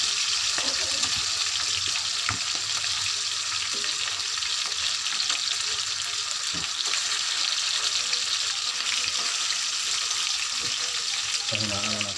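Longganisa sausages from Sariaya, Quezon sizzle and crackle steadily in hot oil in a pan, a dense, continuous frying hiss that runs the whole time, with a few soft clinks and stirring sounds and some quiet background talk.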